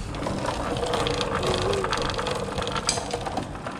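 A bicycle chain and gears turn steadily nearby, a continuous fine clicking ratchet-like whir with faint rattles, heard alone without talk.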